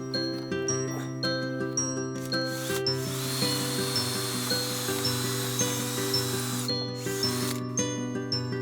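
A drill with a 3 mm bit bores a screw hole in wood, a steady whining motor with a rhythmic rubbing churn that grows grittier as the bit bites, then eases near the end.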